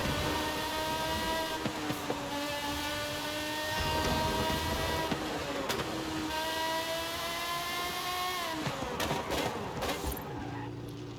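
A car engine revs in Forza Horizon 5, its rising whine broken by gear changes that drop the pitch, loud and close with no voices.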